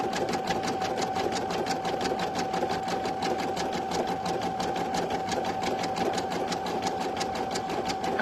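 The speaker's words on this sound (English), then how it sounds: "I got one machine going right in front of me and then one to my right going too." Two embroidery machines run at once, one close in front and one off to the side, making a steady, fast mechanical needle chatter with a constant whine and even rhythmic ticking throughout, with no talking.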